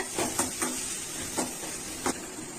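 Chopped onions and curry leaves sautéing in a pan for a vegetable poriyal, a soft steady sizzle broken by a few short scraping stirs at irregular intervals, fairly faint and close.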